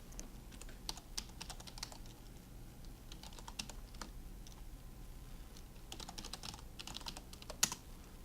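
Password being typed on a computer keyboard at a login page, with quiet, irregular clusters of key clicks across the whole stretch and a few sharper taps near the end.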